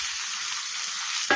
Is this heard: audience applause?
no